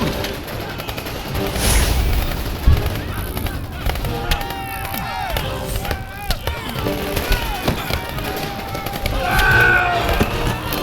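Staged battlefield gunfire in an audio drama, bursts of rapid shots and crackling volleys running throughout, mixed with shouting voices and dramatic sound effects.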